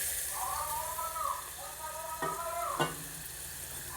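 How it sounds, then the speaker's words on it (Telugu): Boiled toor dal tipped into a hot pan with coconut curry and stirred, a steady frying sizzle with scraping spoon strokes and a couple of sharper clinks near the end. "ఇక కందిపప్పు వేసేసుకుంటున్నామండి."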